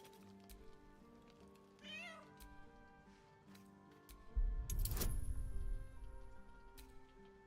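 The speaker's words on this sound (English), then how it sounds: "The cat remains cautious" A cat meows in Baldur's Gate 3, a short wavering call over a quiet ambient hum, followed by a louder thump and a rustling burst, with faint ticking in the background.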